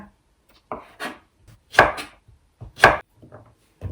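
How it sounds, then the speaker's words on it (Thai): A knife chopping young winter melon into bite-size pieces on a board, several separate firm cuts at an uneven pace, close and clear with no talking. "หั่นเป็นชิ้นพอคำค่ะ"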